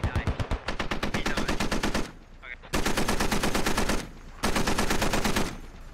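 .50 cal machine gun fire in the game Squad hammers out in three long, loud, rapid bursts separated by short pauses, close and dominant.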